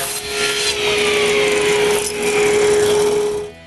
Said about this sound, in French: Je coupe les devantures des tiroirs du bas.